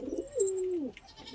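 A single Laldum pigeon gives one soft, drawn-out coo lasting under a second, close by and alone, with faint background noise.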